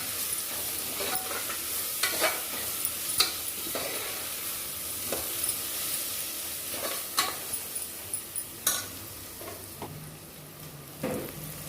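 Mushroom biryani ingredients sizzle steadily in a hot pan while a spoon scrapes and stirs in irregular clinks and swishes, close up.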